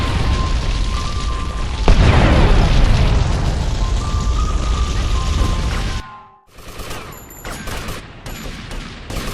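A deep, booming timed-bomb explosion in the video game GTA Vice City bursts loudly and rumbles on for several seconds, then cuts off into quieter, choppy sounds.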